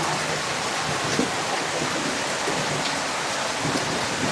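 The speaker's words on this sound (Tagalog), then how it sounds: "Eh, biglang lumakas ang ulan." Heavy rain pours steadily, a dense, loud, unbroken hiss of drops drumming on surfaces nearby, with no voices over it.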